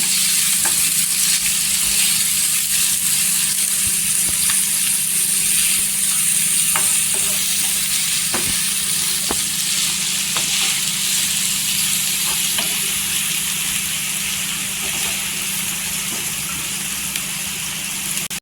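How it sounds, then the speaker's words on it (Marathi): Onions fry in a pan toward golden brown for a Marathi vangyache bharit, giving a loud steady close sizzle with occasional light clicks of stirring, no voices. "इथे कांदा टाकलेला आहे कांदा असा गोल्डन कलर करून घ्यायचा"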